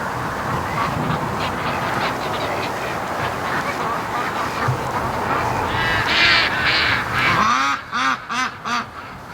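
Free-range ducks quack loudly near a lake, a dense chorus of calls that builds and ends in a few clear, rhythmic close quacks.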